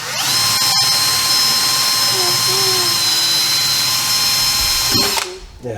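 A power drill whines steadily at high speed for about five seconds, then stops, boring holes for trim on a VW T1 Deluxe van, loud and close with brief clicks at the start.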